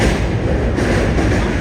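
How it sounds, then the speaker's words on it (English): A loud Tobu Line train rumbles past at close range in central Tokyo, with a steady broadband roar and a faint high whine holding through the entire pass. "there's a very noisy Tobu Line train"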